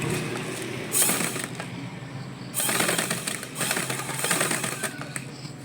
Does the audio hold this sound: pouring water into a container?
no